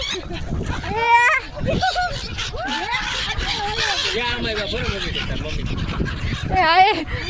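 Geese honk repeatedly in a noisy, excited chorus while being fed at Harsiddhi Van park, with people talking and exclaiming over the calls throughout.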